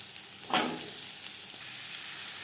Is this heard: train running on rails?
no